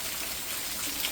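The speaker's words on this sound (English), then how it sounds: "It's raining." Rain falling steadily in an Alabama yard, a dense even hiss of drops with no pauses, close and moderately loud throughout.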